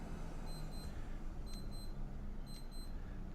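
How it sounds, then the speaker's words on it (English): An alarm clock beeps in short high bursts, two or three groups, fairly faint over the steady engine drone of a T-6 cockpit in Microsoft Flight Simulator. "Do you hear the beeping of the alarm clock there?"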